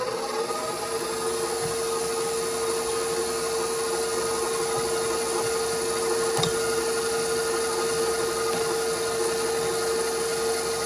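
Stand mixer kneading homemade sandwich bread dough, a steady loud motor hum with constant grinding and rubbing throughout, no voices.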